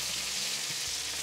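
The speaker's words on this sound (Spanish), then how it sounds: "Aquí es el momento ya de agregarle la cebolla. La vamos a poner a que se fría." Chopped onion fries in a pan for a chicken stew, giving a steady, dense sizzle that stays close and even throughout with no talking.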